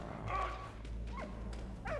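A dog in the World War I adventure game Valiant Hearts gives a few short, yipping barks at intervals over a steady low in-game hum.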